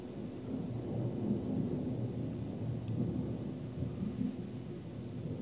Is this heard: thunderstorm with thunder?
yes